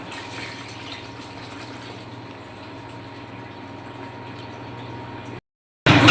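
Broth poured into a fish and potato curry, a steady close gushing pour of liquid that runs for about five seconds, then cuts out with a short burst of noise at the end.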